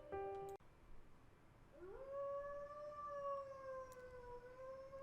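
After a brief musical tone, a lone dog howls outside a mansion at night, a long sustained wavering wail heard faintly from afar with no voices.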